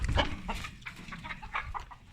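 Several chickens clucking close by, overlapping short calls against a low background hum.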